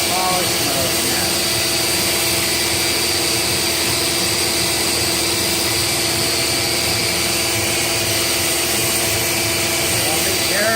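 Power sander fitted with 80-grit paper running in polish mode, a steady loud whir with a constant tonal hum lasting the whole stretch, no pauses or changes in pitch.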